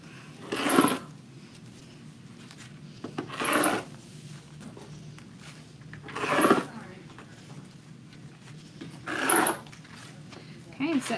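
Scissors cut 8-inch ribbon or mesh curls for a St Patrick's Day wreath, making five brief rasping snips spaced a few seconds apart over a quiet background.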